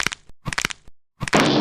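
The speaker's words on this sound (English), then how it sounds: "Hearing 20 or so people crack their knuckles at the same time sounds like a tree crashing down." Knuckles cracking, several sharp dry pops in quick bursts separated by short silences, then a louder crunching burst at the end, close up and alone.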